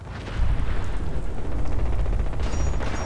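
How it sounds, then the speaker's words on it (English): Distant rumbling explosion in the Fallout 4 video game during a large battle, a sustained low boom rolling on for a few seconds, with a faint high tone near the end. "Another explosion over there."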